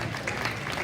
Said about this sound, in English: Let's congratulate them with a round of applause.